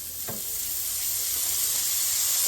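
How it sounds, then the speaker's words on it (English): Steak hits a hot pan and bursts into a steady, bright sizzle that swells and holds, close and fairly loud, with no talking over it. "Okay, I've got the steak, and we're just going to throw it in."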